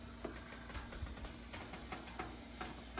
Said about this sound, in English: Steam coming out